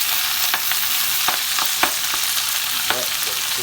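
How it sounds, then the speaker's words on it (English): Greens fry in a hot pan during a cooking exercise, a loud, steady sizzle broken by a series of sharp pops. "Pop, pop, pop, sizzle."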